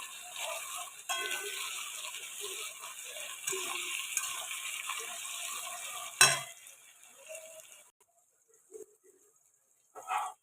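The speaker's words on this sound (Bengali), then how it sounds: "টমেটোটা দিয়েও একটু ভালোভাবে ভেজে নেব" Chopped tomatoes fry with onions in a pan for a mutton curry, a steady sizzle with soft stirring scrapes, then a sharp utensil clank before the sound drops to near quiet with a few light knocks.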